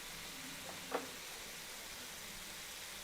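Chicken tikka pieces frying in a pan over high flame, a steady broadband sizzle throughout with one brief spatter or stir near the start, moderately faint and without talk.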